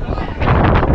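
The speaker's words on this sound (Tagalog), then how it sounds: "Ang lakas ng hangin, no?" Strong wind blows across an open outdoor viewpoint, a broad rushing roar that gusts harder about halfway through, with a person talking faintly under it.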